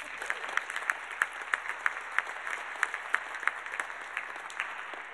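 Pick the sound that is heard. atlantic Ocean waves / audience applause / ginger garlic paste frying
audience applause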